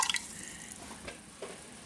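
Liquid is poured into a pan while elderberry jelly is made, starting with a brief burst of splashing and then settling into soft, close trickling and drips with a few quiet plops.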